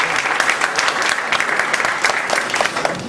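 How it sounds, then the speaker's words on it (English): An audience at a study circle meeting applauds a speaker, a dense steady patter of many hands clapping at close to medium distance, continuous and fairly loud throughout. "Please give him loud applause and thank him"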